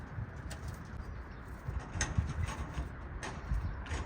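Tumbler pigeons flying overhead in an outdoor play flight, with soft low cooing and faint rustle of wings under steady background noise; no one speaks.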